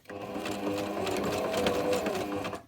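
A sewing machine runs continuously, stitching over a zigzag seam on a homemade cloth sanitary pad. The steady, close mechanical whir lasts about three seconds with no talking.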